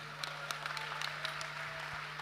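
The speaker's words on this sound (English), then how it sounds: "one more round of applause for him" Audience at a real estate industry convention applauds with a thin spatter of separate claps over a steady low hum in a large hall, fairly faint and brief.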